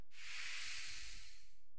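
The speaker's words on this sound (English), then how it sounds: "His honey-covered drill rattles as it rolls across the ground." A honey-covered drill rolling across the ground in the video game Death Mark: a continuous rattling, scraping hiss under low rumbling, steady and close for under two seconds.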